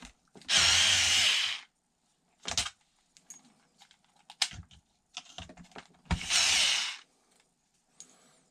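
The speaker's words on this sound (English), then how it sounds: "I am going to be using a driver. So if you have sensitive ears, just watch out." A power driver unscrews screws on an Arrma Big Rock RC truck, two loud whirring bursts of about a second each with quieter clicks, taps and handling noises of parts and screws in between.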